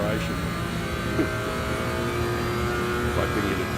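A car engine in a racing video game, steadily droning and pulling hard under acceleration, loud and continuous with a voice faintly talking over it.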